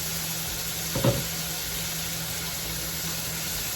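Sausages sauteing in a pan give off a steady, soft sizzle with a faint hiss throughout and one short clatter near the start.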